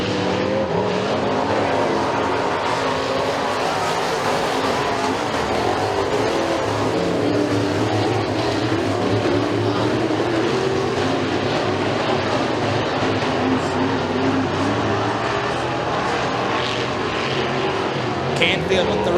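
Race cars at McKean County Raceway's dirt oval roar continuously as they accelerate into turns one and two during heat races, a dense, loud engine drone with a commentator talking over it.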